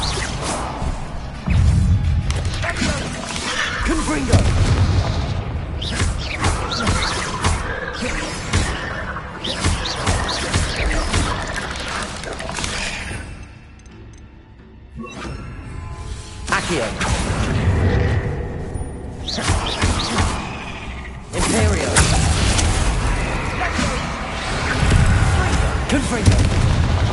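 Repeated Confringo fire-curse blasts in the Hogwarts Legacy video game, dense booming explosions and crashes that pile up loudly over a busy game soundtrack with shouted voices, easing briefly before erupting again.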